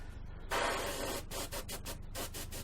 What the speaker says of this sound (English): the bowl has been sanded